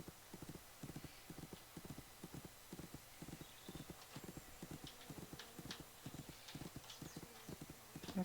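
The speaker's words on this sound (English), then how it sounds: "I think I'm getting better at steering this horse" A horse ridden through a town in The Unicorn Princess video game trots with steady, quick clip-clopping hooves, faint and continuous, with no talking.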